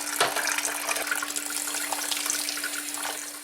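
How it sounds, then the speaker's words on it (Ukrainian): Steady running cold tap water splashing into a sink, a continuous rushing hiss with small shifts as mushrooms are rinsed beneath the stream. "Знову промиваємо холодною водою"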